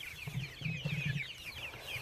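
Farm chickens clucking outdoors, with a run of low, close clucks in quick succession and fainter high chirps and calls behind them.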